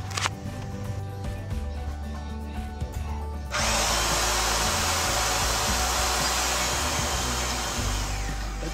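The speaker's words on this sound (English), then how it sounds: "here I'm going to use my portable bandsaw. I'm going to cut this tubing." A portable bandsaw cuts through metal tubing for a cargo trailer camper ramp holder. It idles with a low motor hum for a few seconds, then breaks into a loud, steady, gritty hiss as the blade bites into the tube.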